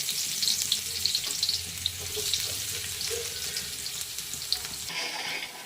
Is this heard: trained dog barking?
no